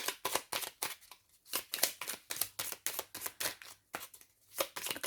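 Oracle Élite cards shuffled by hand, a quick run of crisp papery riffles and slaps repeating in bursts with brief pauses, close and fairly quiet.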